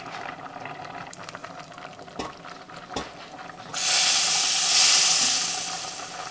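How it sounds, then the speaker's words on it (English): Red lentil dhal bubbling in a pot with turmeric, salt and spice mix added, a steady low simmer of small pops and bursts that swells into a loud, bright steamy hiss partway through, with no talking. "I'm going to probably boil it for another minute or two"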